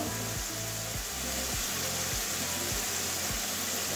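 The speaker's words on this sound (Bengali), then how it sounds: "এবারে ভালো করে মশলাটা কষিয়ে নেব, মশলা থেকে তেল ছাড়া আসছি" Spice paste sizzles steadily in hot oil while being fried down for a taro (kochu) dum curry, a constant loud hiss with soft rhythmic thumps of stirring underneath.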